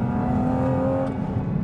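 A Porsche Cayman GT4 RS running its 911 GT3-derived engine holds a steady, close, loud rev with a sustained tone and no speech over it.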